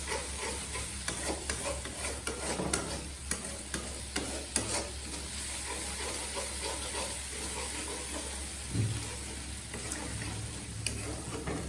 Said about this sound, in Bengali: মশলাটা ততক্ষণ ভাজবো যতক্ষণ না পর্যন্ত উপর দিয়ে তেলটা ভেজে উঠবে